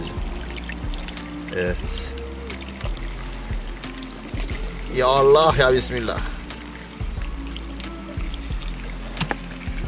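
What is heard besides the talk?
water being poured to fill a container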